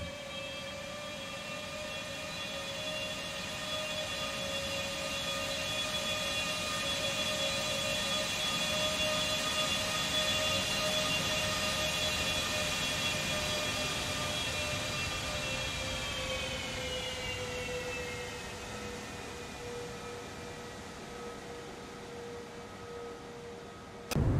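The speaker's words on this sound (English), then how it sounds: "Here's a nice flyby with Shift 1." An Airbus A321neo jet in X-Plane 12 roars past in a steady, loud flyby, its engine whine holding then dropping in pitch as it passes and fades slightly.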